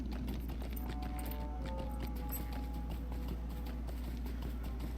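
Goat mount hooves clip-clop steadily in the Lord of the Rings Online video game, a quick even trot over a constant low background hum.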